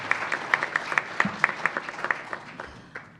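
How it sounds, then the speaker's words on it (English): Audience applause for panelists at a law and technology conference panel, a short burst of scattered clapping from a modest crowd that is moderately distant and fades out within a few seconds. "let's give a round of applause to all of our panelists."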